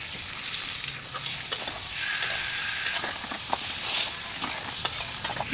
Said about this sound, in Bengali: ডালগুলো দেওয়ার পর এটাকে আবার ভালো করে আমি ভেজে নিতেছিলাম ডালটার উপরই